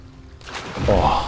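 A video game player character plunges into water, and the moment of silence breaks into a brief whooshing splash that swells and fades within about a second.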